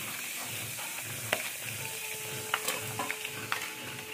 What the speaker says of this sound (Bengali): এরকম আলু ভাজাটা হবে।